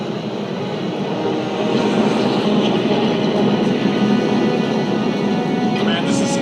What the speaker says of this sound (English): Let's see how it handles the airplane drop scene.